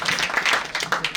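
Short burst of audience clapping for a high school student called up at a school event, a quick patter of many hands sounding close and lively.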